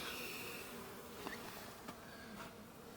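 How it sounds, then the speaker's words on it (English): Soft buzzing of bees flying steadily around in cold weather in Newfoundland, with a few brief louder passes close by over a quiet outdoor hum. "bees are not supposed to fly when it's this cold, but they do in Newfoundland"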